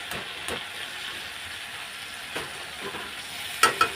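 Boiled taro stolons go into a spiced fish curry and are stirred in a pan, giving a soft steady sizzle with a few scraping stirs and two sharper clacks near the end.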